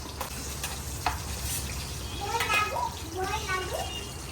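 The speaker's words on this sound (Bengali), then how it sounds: "মাছটা একটু ভেজে নিলাম" Tangra fish fry and pop in a pan of oil with a steady sizzle, while voices talk over the cooking.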